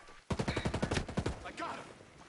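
Rapid automatic gunfire in Ghost Recon Breakpoint, a close, loud burst of about a dozen evenly spaced shots, then a brief tail of softer noise.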